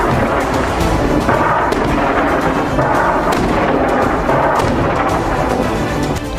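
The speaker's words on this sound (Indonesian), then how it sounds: "Serangan roket dan peluru artileri Hizbullah menyasar konsentrasi pasukan Israel." Hezbollah rocket and artillery fire on Israeli troops in southern Lebanon, a continuous loud rumble of blasts and booms with repeated sharp impacts and no voices.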